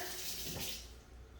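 Tap water runs into a kitchen sink as hands are rinsed, a short steady broadband splash that fades slightly toward the end, heard alone without talk.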